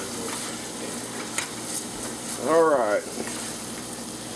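Butter, onion and garlic sizzle steadily in a pan for lemon and pea risotto, a continuous close frying hiss with stirring; a brief spoken word and a short vocal sound occur over it.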